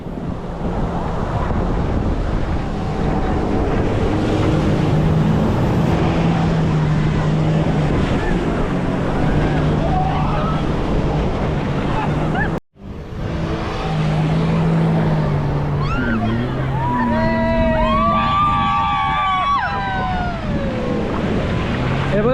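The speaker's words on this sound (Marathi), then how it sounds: "जेस्की आहे तिकडनं ओढत नेते आहे आणि याला बोलतात डक राईड" Jet ski towing a duck ride inflatable boat at Diveagar beach, a steady engine and surf roar with wind buffeting the microphone, brief cut midway, and voices talking over it.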